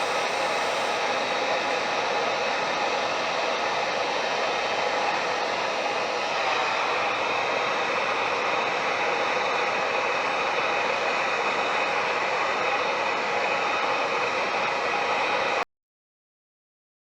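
A heat gun blows steadily on a wooden self bow during tillering, a continuous loud hiss and roar of hot air that runs unbroken for about fifteen seconds before cutting off abruptly.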